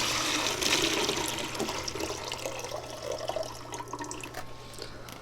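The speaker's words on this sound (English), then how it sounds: "Let me dump the water so you can see them better." Water is dumped out of a box holding boxwood cuttings, a steady close pour and splash that is loudest at the start and tapers off gradually.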